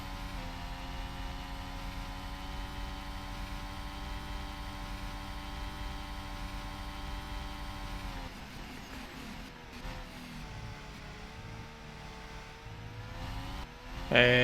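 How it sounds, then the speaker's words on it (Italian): A high-pitched Ferrari Formula 1 engine at the Canadian Grand Prix drones steadily, then drops and changes pitch as it shifts, with a sharp rise at the very end. "Sentiamo il motore Ferrari di Sebastian Vettel."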